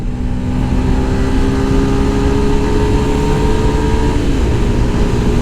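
Yamaha FZ S V3 BS6 motorcycle accelerating hard during a top speed test, a loud continuous engine drone with rising tonal whine held steady across the clip, no talking.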